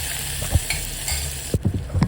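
Sliced onion and potato sautéed in oil in a pan, a steady sizzle broken by sharp scraping and clinking spatula strokes, close and fairly loud, no voices.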